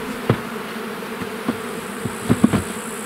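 Honey bees buzzing close by around a hive, with a few louder passes standing out over a steady background hum.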